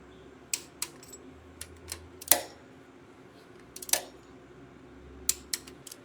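Sharp, isolated mechanical clicks from a torque wrench tightening the cylinder heads on an LT1 engine, a handful of crisp snaps spaced irregularly over a quiet workshop background, with no talk.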